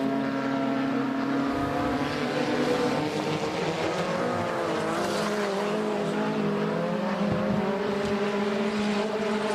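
Stock cars racing around a track, engines roaring loud and continuous with rising and falling pitch as the rear-wheel-drive cars accelerate out of a corner, several cars overlapping close by.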